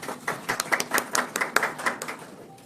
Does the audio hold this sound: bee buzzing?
no